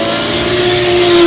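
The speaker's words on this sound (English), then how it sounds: "Former champion Kurt Whitaker was laying down plenty of rubber in the 2JZ-powered R34 Skyline, the longer full-throttle drift section reducing tyre wear to just 2 laps." Nissan R34 Skyline fitted with a 2JZ engine at full throttle in a drift competition, a loud sustained engine roar with steady high-revving drone and tyre noise, close and continuous with no talk.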